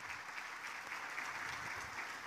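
A church congregation applauds during worship, a soft, steady wash of many hands clapping heard from a distance at low volume.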